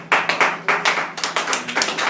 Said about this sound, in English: Shall we give a big applause for him?